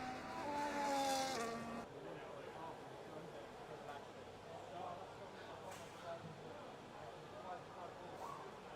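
Race cars in an F1 racing video game lap a track at the Great British GP, a steady engine drone with a whine at the start, carrying on under a commentator's voice.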